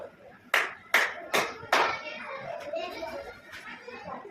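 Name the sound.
children clapping hands in classroom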